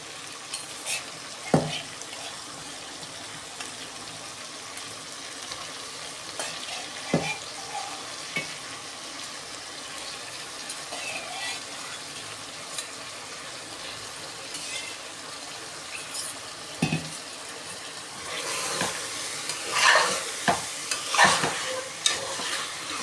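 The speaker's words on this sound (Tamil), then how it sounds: "ஓகே, நல்லா கிண்டி விட்டாச்சு." Boiled mutton is stirred in a sizzling pan while making biryani, with a constant frying hiss. Scattered metal scrapes and knocks from the spoon grow busier and louder toward the end.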